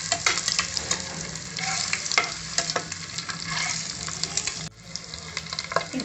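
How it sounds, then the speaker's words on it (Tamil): Eggs coated in masala fry and sizzle in hot oil, a steady loud crackle with stirring clatter that drops off abruptly near the end, then continues more quietly. "இந்த மசாலா தடவின முட்டையெல்லாம் எண்ணெயில் சேர்த்துக்கலாம்"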